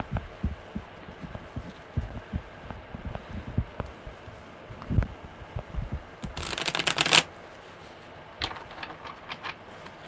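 Tarot cards are shuffled by hand as a series of soft close taps and riffles, followed by a brief louder burst of riffling near the middle and a few quiet handling sounds afterward.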